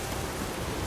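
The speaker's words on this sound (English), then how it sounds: "Let it rain." Rain in The Witcher 3 on Xbox One X, a dense, even hiss of steady rainfall with no distinct drops, soft and continuous with no talking.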